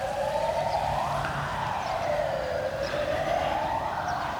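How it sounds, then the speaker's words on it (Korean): A loud emergency siren wails close by and sweeps steadily up and down in long, smooth cycles over a constant background rumble, with no other sound cutting through. "지금 사이렌이 크게 울리고 있는데"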